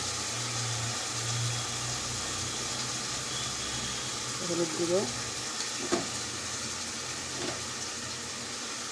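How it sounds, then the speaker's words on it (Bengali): Ground cumin, coriander and turmeric powder frying in a pan after fish, a steady close sizzle running throughout with a few soft stirring clinks and scrapes. "ভালো করে মশলাটাকে কষাবো"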